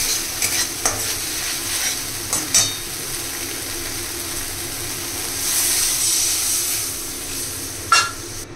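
A mustard hilsa curry base sizzles in a pan as a little water is added, with steady frying hiss and several sharp scraping strokes from stirring, close up and without talk.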